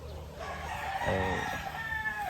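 A game stag rooster crows once in a single drawn-out call, close and clear over a steady rural background, with other fowl faintly audible.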